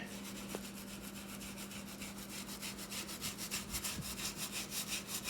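Steady back-and-forth swooshing of a cloth wiping a kitchen counter, close and fairly quiet, in a continuous rubbing rhythm.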